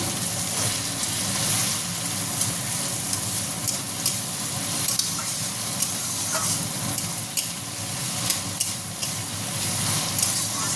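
Potatoes and other ingredients for atta chowmein sizzle steadily in an oiled pan while a spatula stirs them, scraping and tapping close by over a continuous frying hiss, with no talk.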